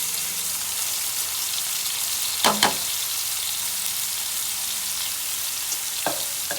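Onion and tomato paste sizzle steadily in a hot pan while gravy is made for chicken tikka masala, a dense even hiss broken by a couple of brief clinks near the middle and end.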